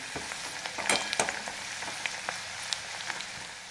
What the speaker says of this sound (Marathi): चांगला खरपूस भाजून घेऊया आपण लसूण